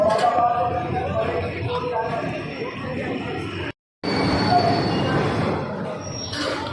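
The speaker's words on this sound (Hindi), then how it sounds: "तीन नंबर प्लेटफॉर्म पर अराइव करती हुई ट्रेन" Loud, sustained metallic squeal of train wheels on rails as an express train rolls into a platform at Moradabad station, with a brief dropout midway and rumbling underneath.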